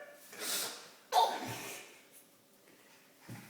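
A young child makes pretend sneezes indoors, two close breathy bursts with a pause and a softer third starting at the end, heard alone without other talk.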